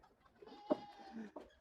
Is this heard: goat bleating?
yes